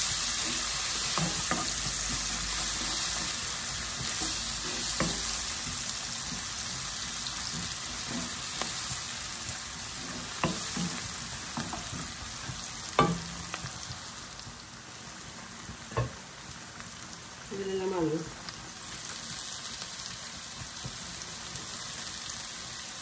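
Potatoes fry with turmeric in a pan, giving a constant close sizzle with occasional clinks and scrapes of stirring.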